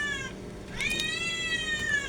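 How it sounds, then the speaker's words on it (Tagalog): A cat meows loudly and repeatedly nearby in a home kitchen, its drawn-out wavering cries ringing over low background noise while squash is being cooked. "Pasensya na po kayo sa background ko, napakaingay ng pusa."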